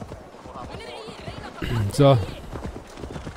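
Rhythmic clip-clop of horse hooves while riding in the video game Assassin's Creed Valhalla, quick regular beats heard under someone talking.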